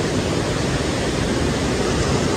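A hidden waterfall at Devgad Kalvi in the Konkan roars as a steady, loud broadband rush, dense and unbroken throughout with no voices over it.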